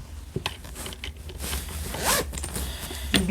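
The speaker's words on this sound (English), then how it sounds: "So now we get to close this up just like a zipper pouch." A zipper pulled closed along a sewn fabric tote bag with a key ring tab, a steady rasping run of zipper teeth close up, with no voices.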